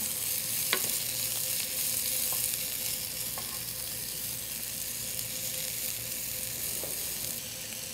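Steady sizzle of garlic powder, onion powder and white onion being stir-fried in oil in a pan, with a few light spoon scrapes and taps over the continuous frying hiss.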